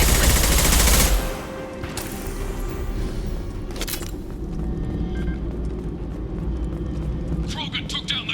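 A loud burst of gunfire opens the Mass Effect 2 combat scene, followed by continuous battle noise with scattered shots and mechanical clatter, while voices talk throughout.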